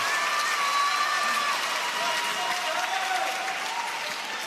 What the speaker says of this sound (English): And the crowd re-energized.